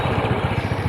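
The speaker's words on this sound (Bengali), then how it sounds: "মোটরসাইকেল যাচ্ছে তো ওই কারণে ভিডিওটা একটু কাঁপছে।" A motorcycle rides along a village road, its engine giving a close, steady low thrum with quick rhythmic pulses throughout the brief moment.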